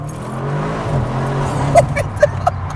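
An Audi RS1 in sport mode is heard from inside as a steady engine drone, with a few sharp exhaust pops and crackles near the end, loud and close.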